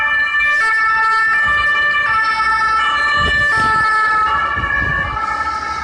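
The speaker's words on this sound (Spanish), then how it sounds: "Vaya, la ambulancia que pasa" An ambulance siren wails loudly and steadily for the whole stretch, its two-tone pitch stepping up and down as it passes close by on the road, with low traffic rumble beneath.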